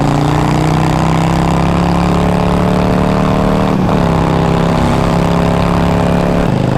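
Harley-Davidson Sportster 883 Iron with a new open exhaust, running loud and close with a steady, throbbing low rumble and a brief throttle blip partway through, no talking.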